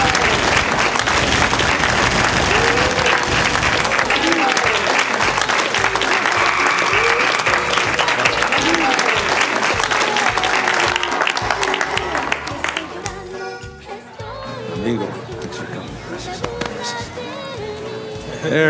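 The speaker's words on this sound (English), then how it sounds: "Give a round of applause for the real stars here and shake their hands." Party crowd breaking into loud, sustained applause with scattered cheers and voices, the clapping dense at first and then thinning into murmuring chatter and a few remaining claps.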